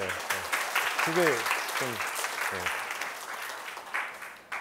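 An audience at a conference talk on data analysis and security gives a steady, moderate round of clapping, while someone speaks over it.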